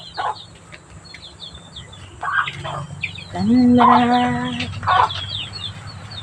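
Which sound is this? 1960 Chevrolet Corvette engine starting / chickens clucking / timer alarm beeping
chickens clucking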